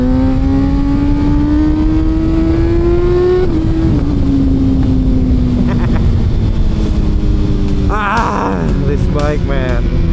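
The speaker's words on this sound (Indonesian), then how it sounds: "Efek knalpot panjang ya motor ini" A Kawasaki ZX-636 sport motorcycle with a long exhaust drones and climbs in pitch, then revs in sharp bursts near the end, loud and close, with a voice speaking briefly.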